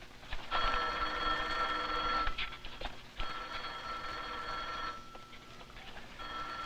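Old-fashioned telephone bell ringing in repeated long trilling bursts, two clear rings with a short gap, fairly close and loud over a quiet room.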